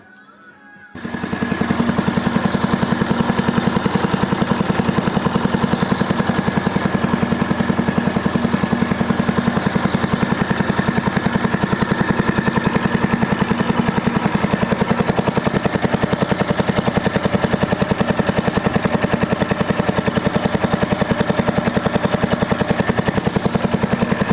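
The engine of a homemade KV-4 mini tractor starts after a brief pause and then runs steadily and loudly, a constant mechanical drone with a low rumble throughout.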